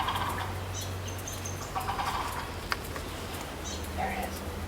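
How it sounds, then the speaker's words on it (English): Wild turkey tom gobbling in a Mayan forest, a few gobbles at moderate distance over a continuous low background of forest noise. "how could there possibly be a calling tom within 60, 70 yards of where we stopped?"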